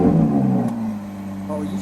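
A 2021 Ferrari 812 GTS with a 6.5-liter V12, switched into sport mode, hums and rumbles at close range, with a brief click partway through and a lighter lift near the end.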